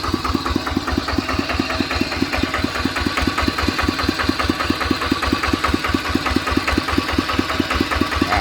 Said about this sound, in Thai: อาจจะดังลูกลอกนิดนึงนะครับ